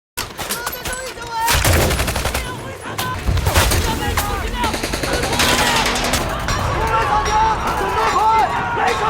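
Dense gunfire from a war film battle scene, with rapid machine-gun bursts and repeated gunshots that are loud and sustained, mixed with shouting and battle noise.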